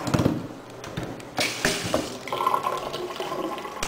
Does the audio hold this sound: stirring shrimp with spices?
no